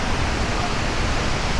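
Lundbreck Falls waterfall in Alberta, a steady, dense rush of falling water that fills the whole clip at an even, loud level, with no pauses or distinct events.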